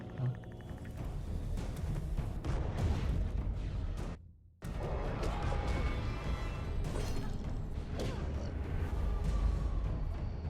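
Repeated heavy cannon booms and crashes from the video game Alice: Madness Returns, loud and busy, with a brief dropout midway before the blasts continue.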